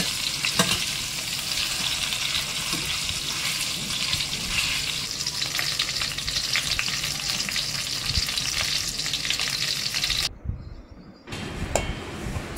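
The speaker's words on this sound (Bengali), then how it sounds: "যে চিকেনটা আমি ম্যারিনেট করে রেখেছিলাম সেটা ঘিতে ভেজে নেব এবং লো ফ্লেমে ভাজবো" Marinated chicken fries in ghee over a low flame for a chicken roast, giving a dense, steady sizzle with stirring scrapes, then a brief drop to near silence before the frying resumes.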